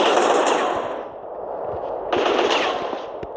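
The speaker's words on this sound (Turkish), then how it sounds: "Ya onu da silahla vuracak." Rapid automatic gunfire from a video game weapon rattles out in two loud, dense bursts with a brief lull between them.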